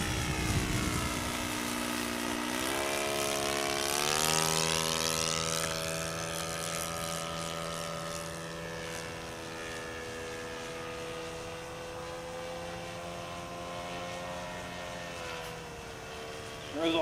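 Small glow-fuel engine of a 50-size RC Cessna 182 model airplane buzzes at wide open throttle, a steady high-pitched drone whose pitch rises then shifts as the plane flies past, moderately distant and alone.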